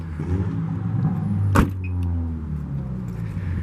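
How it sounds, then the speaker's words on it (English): A 2016 Audi A6 2.0T Premium Quattro's trunk pops open from the key fob with a single sharp clunk at mid-clip. A low, steady engine idle hums underneath throughout. "And also the trunk, you can press and hold on the key fob, and it will release just like that."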